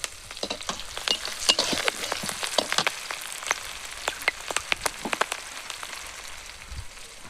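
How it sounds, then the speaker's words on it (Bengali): Green chillies and reddening onions fry in hot oil, a close, steady crackle and sizzle with scattered sharp pops throughout. "কাঁচা লঙ্কা দিলাম তেলের উপরে। পেঁয়াজ টেয়াজগুলো একটু লাল লাল হয়ে এসছে।"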